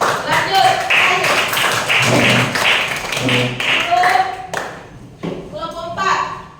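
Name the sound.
class clapping hands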